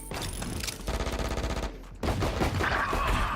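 Sustained automatic gunfire in the shooter Valorant, a dense clatter of rapid shots that breaks off briefly before resuming at full loudness, with a busy mix of other game sounds underneath.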